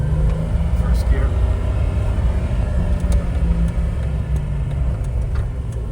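A 2006 Jeep Wrangler Unlimited with a six-speed manual pulling away in first gear, a loud steady low engine rumble with road noise close up inside the cabin.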